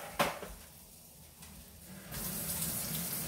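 Tap water runs into a sink while fried hot dogs with peppers are being cooked, first as a sharp splash, then as a steady hiss that swells louder and fuller in the final second, with no talking.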